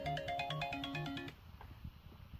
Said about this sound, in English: That's my alarm saying that make sure I'm up.